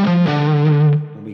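A distorted electric guitar plays a brief pentatonic lick, a quick slide into a sustained, buzzing note that rings and fades within about a second.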